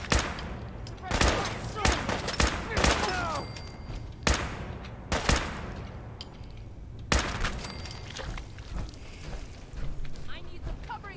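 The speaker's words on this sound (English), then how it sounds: "I need some covering fire over here." Gunfire in a Fallout 4 fight: sharp, close shots in irregular bursts and single cracks across the stretch, with a voice talking intermittently beneath them.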